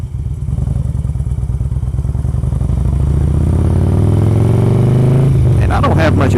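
Harley-Davidson motorcycle on an early morning Sunday cruise, its steady engine drone loud and continuous with wind rush throughout, rising in pitch near the end as the bike accelerates.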